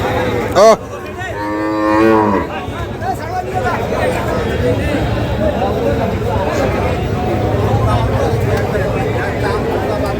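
Desi-breed dairy cows with calves at a rural cattle market in Dinajpur let out a loud, close moo followed by a long drawn moo, over a constant hubbub of crowd chatter and talking.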